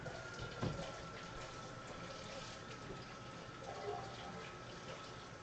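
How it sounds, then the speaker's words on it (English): Tap water runs steadily into a sink while peppers, tomatoes and beans are rinsed, a constant moderate splashing with a brief louder gush near the start. "So I'll go ahead and give these a quick rinse here."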